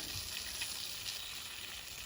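A faint, steady sizzle hisses from a pressure washer line as a cleaning chemical transitions through it, a soft continuous frying-like crackle with no talk.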